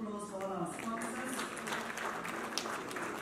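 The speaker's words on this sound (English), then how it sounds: "a round of applause for all our sponsors" Audience at an investment conference applauding the event sponsors, a soft, even wash of clapping with brief voices audible near the start.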